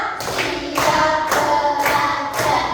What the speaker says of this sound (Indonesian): tepuk lima,